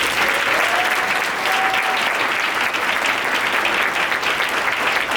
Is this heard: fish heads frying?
no